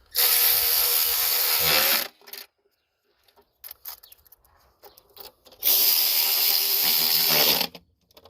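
A 1/4 inch socket on a ratchet starting the oil filter housing bolts on a Chrysler 3.6 engine, heard as two sustained bursts of dense, rapid clicking, close and loud, separated by quieter scattered taps and handling noises.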